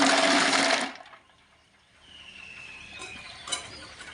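Hot water being poured over snails for a village-style snail gravy makes a loud, close rush of water for about a second, then trails off into quiet with faint drips and a thin whine.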